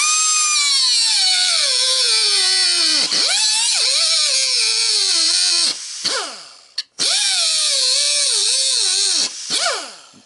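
A power tool cuts the end off a copper dryer with a loud, close whine. The pitch sags and recovers repeatedly as the blade bites the copper, with two brief breaks before the cut resumes.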